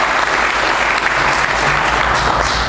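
Audience applause at a bowl game press conference, a steady dense clapping that continues at full strength throughout, close and loud.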